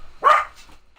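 A dog gives a single sharp bark, loud and close, followed by faint quieter noise.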